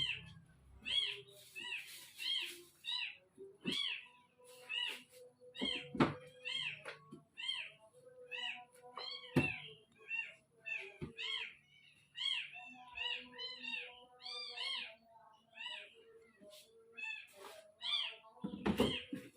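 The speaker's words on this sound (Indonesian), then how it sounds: "Kita sambil mendengar suara anak kucing teman-teman ya" Repeated high, thin kitten meows, many in quick succession with brief gaps, fairly close, and a few soft thumps underneath.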